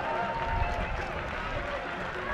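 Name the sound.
crowd applauding climber Jonas Baumann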